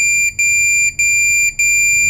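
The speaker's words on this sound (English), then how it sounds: "once this line reaches this one, and it will emit an alarm." An echo sounder's shallow water depth alarm on a ship's bridge sounds as a loud, steady high-pitched electronic beep, repeating in regular pulses with short gaps and no talk over it.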